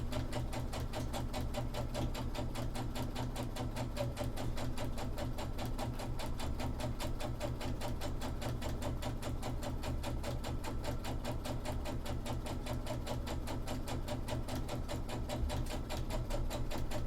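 Sewing machine stitching cosplay sleeves at a slow, even pace, a soft continuous rapid ticking of the needle running steadily throughout with no talk.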